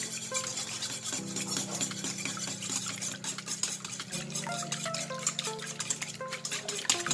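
Chocolate cake batter with eggs and vanilla being stirred and mixed in a bowl, a steady close scraping and swishing that runs continuously with a low hum underneath, no voices.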